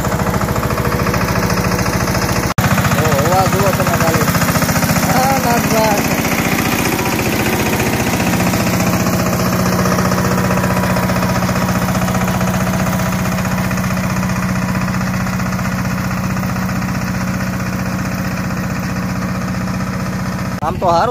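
A mini tractor on a damp farm field idles loudly and steadily, a low throbbing hum with a sharp knock near the start, while people talk over it.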